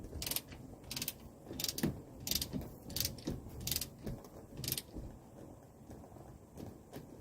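Ratchet clicking as a nut with a star washer is tightened on the armrest of a 1984 Mercedes 300SD; bursts of quick metallic clicks come in short repeated strokes, fairly close but quiet.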